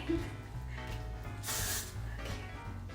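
A short burst of hairspray hisses for about half a second onto a doll's hair, a close, soft spray set against a faint low hum.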